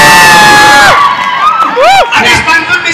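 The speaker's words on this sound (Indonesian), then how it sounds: "Tepuk tangannya dari bis" A group from bus 4 whoops and cheers loudly at close range, high excited voices shouting over one another in a short, rowdy burst.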